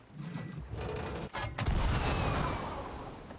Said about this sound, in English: Let's shoot ourselves over in the cannon and see what happens.